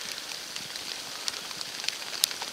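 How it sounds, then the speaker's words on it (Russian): Rain falls steadily on a wooden forest hut and its roof, a soft, continuous hiss scattered with faint drip-like ticks, quiet and constant with no one talking. "Вторые сутки идет дождь, усиливается, то моросит, то прекращается."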